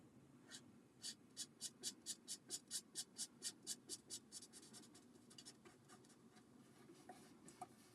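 A marker writes on a card in a quiet, close run of quick, rhythmic scratchy strokes, followed by a few fainter, scattered strokes.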